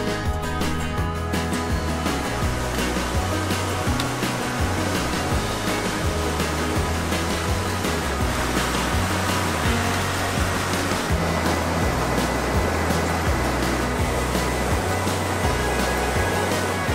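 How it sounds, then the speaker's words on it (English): The Rattle River runs beside the Rattle River Trail in the White Mountains of New Hampshire, a steady broadband rush of flowing water. It is loud and continuous throughout, with no voices over it. "Making our way up the Rattle River Trail right here, so I assume this is the Rattle River."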